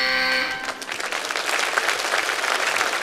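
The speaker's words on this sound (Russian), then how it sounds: "Ваши аплодисменты." A studio audience at a children's comedy show bursts into applause, a dense wash of clapping that starts after a fading musical sting and keeps going steadily and loudly to the end.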